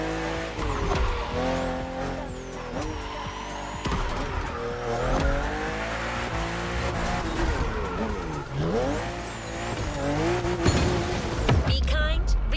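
BMW race car in The Crew Motorfest video game, engine roaring and shifting pitch with tire squeal, loud and continuous under layered game sound.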